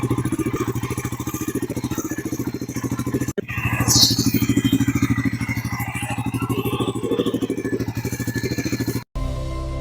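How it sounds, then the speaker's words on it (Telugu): A Bajaj Pulsar NS400 motorcycle engine runs steadily close by, a loud, evenly pulsing throb that holds its pace throughout, broken by one very short dropout partway through and another near the end, with no talking. "ఇప్పుడు ఈ బైక్ ఇంజన్ సౌండ్ ఇందాం."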